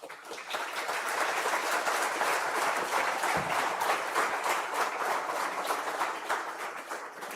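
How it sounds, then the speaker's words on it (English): Sustained audience applause at an aerospace engineering graduation convocation, dense and even clapping from a large crowd at moderate level, rising at the start and tapering slightly at the end. "Please give yourself a huge round of applause."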